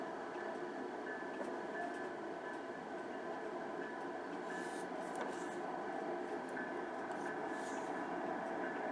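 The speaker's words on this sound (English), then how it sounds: "Can you hear the train going by?" A train rumbles past with a steady mechanical hum and faint rattling of cars throughout, fairly distant and continuous.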